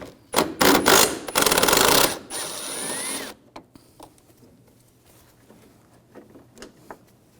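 A bumper screw on a 2011-2018 Volkswagen Jetta being removed with a T30 socket, loud bursts of rapid mechanical ratcheting and whirring for about three seconds, then scattered light clicks and handling noises.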